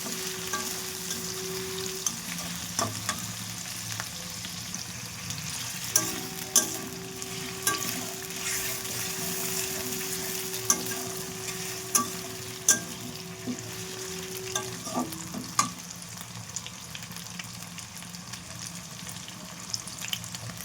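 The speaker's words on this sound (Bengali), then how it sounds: "এগুলোকে একটু ভালো করে ভেজে নেবো।" Pumpkin and potato pieces frying in a pan, a steady close sizzle with a faint whine-like tone running through it and occasional spatula clicks and scrapes as they are stirred.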